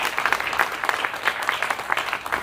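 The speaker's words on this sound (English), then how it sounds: "Let's give a round of applause to our students as well." Steady applause from an audience at a ribbon-cutting ceremony, many hands clapping continuously at a moderate, even level with no voices on top.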